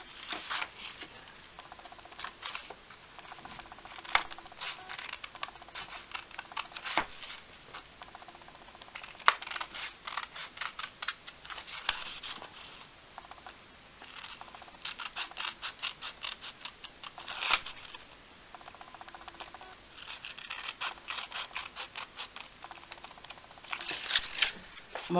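Scissors cut card stock for a handmade box card, snipping in irregular clusters of close, crisp clicks and slices with quiet handling noise between cuts.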